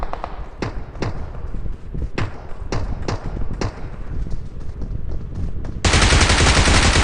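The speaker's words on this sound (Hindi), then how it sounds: "फायरिंग की साउंड तो कंटिन्यूस आ रही थी गाइस, रुक रही नहीं थी फायरिंग" Rapid gunfire in a mobile battle royale shooter, a run of sharp, evenly spaced close shots followed by a dense, unbroken burst of fire at the end, loud and without speech.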